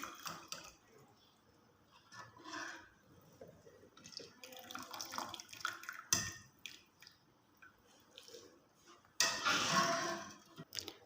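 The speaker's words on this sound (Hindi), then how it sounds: "साथ ही हम इसके ऊपर ठंडा पानी डाल देंगे।" Cold tap water splashes and gurgles in uneven bursts over boiled macaroni in a pot, with a louder rush of pouring near the end, close by and fairly quiet overall.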